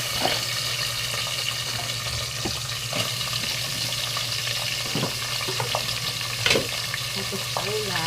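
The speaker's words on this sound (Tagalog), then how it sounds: "Gigisa na rin natin yung alimasag." Crab sautéing in a pan with onion and tomato, a steady close sizzle and frying hiss with occasional stirring clinks and scrapes, running continuously with no talk.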